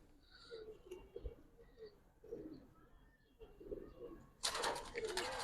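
Pigeons, silver Giribaz and coloured birds, coo softly in short, separated bursts at close range, followed by a sudden loud burst of flapping wings at the end.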